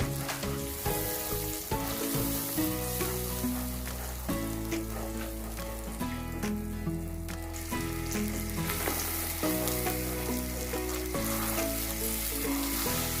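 Tomato-onion paste fries with chicken for Mughlai chicken changezi, a busy close sizzle and crackle of oil with stirring scrapes, steady throughout, with music playing underneath and no talk.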